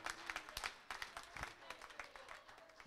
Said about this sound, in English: Can we just give God a hand clap of praise